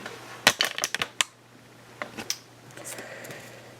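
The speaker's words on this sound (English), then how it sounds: "Sorry about the loud noises from this tripod" Clattering handling noises from a camera tripod, a close cluster of sharp clicks and knocks followed by a few quieter taps and rustles, with no talk.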